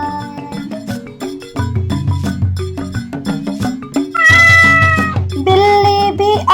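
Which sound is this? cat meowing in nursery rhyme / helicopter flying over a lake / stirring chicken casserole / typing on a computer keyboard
cat meowing in nursery rhyme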